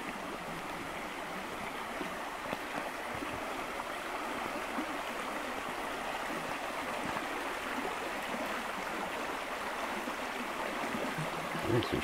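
A pretty little stream with foam on its water flows steadily outdoors, a soft, continuous babbling and trickling at moderate distance with no pauses over the whole stretch.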